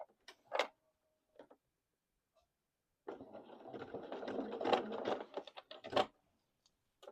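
A sewing machine stitching through thick fabric for an apron: a couple of brief taps, a pause, then a few seconds of rapid, close mechanical stitching chatter, fairly quiet.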